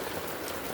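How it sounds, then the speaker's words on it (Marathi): Heavy rain falling steadily outdoors, with water pooling on the ground: a dense, continuous, close wash of raindrop hiss with no voices. "खूप जोरात पाऊस चालू आहे"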